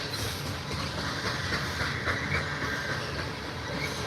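A BNSF coal freight train rolls past steadily, with continuous wheel rumble, clickety-clack and hiss at an even, loud level and no voices.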